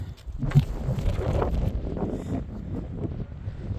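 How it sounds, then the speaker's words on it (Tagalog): Strong wind buffets the microphone in continuous low rumbling gusts at a seaside fishing spot on an island, with faint background noise and no clear voices. "Ang dami ng hangin dito."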